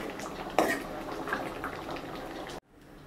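Green peas and potato curry being scooped from the pot into a bowl, with spoon and metal clatter, a sharp clink near the start, then a brief quieter stretch at the end.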